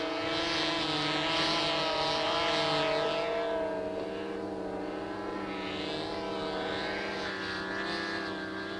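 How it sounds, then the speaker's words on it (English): A propeller airplane flies in close, its droning engine tone loud and steady, swelling and then easing slightly as it passes, alone with no voices. "Flying rock steady, the plane eases in on the group."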